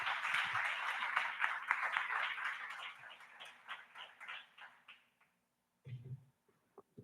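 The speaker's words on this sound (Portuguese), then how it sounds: "Então, mais uma vez, vamos aplaudi-lo" Congregation clapping during a Sunday church service, a burst of applause that thins out and fades over about five seconds, followed by a short pause and a brief low voice.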